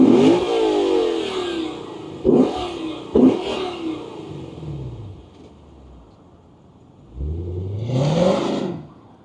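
A 2020 Lexus RC F Track Edition V8 starts and revs, with sharp blips of throttle early on, a lower idle settling in the middle, then a long rising rev near the end, loud and close with no talk.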